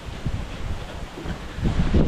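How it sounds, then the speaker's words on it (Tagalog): Strong typhoon wind gusts around a tent on a sandy beach on Balot Island in the Philippines, rumbling low bursts of microphone buffeting that swell and fade, heaviest toward the end, with no talking. "Binabagyo kami guys, ang lakas ng hangin."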